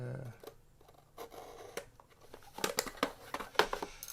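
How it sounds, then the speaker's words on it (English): A sharp knife scores and slices through a cardboard box holding a Revell SPAD XIII C-1 1:72 model kit, giving a series of close, quiet crisp cuts and crinkles, some separate and some clustered. "let's cut it open and take a look at what's inside"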